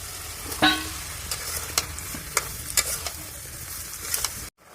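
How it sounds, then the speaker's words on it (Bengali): Shrimp and bottle gourd sautéing with salt, turmeric and onion paste in a pan, a steady sizzle broken by repeated sharp scraping stirs, close and alone until it cuts off abruptly. "লাউ দিয়ে এখন চিংড়ি মাছটা ভালোভাবে কষিয়ে নেব।"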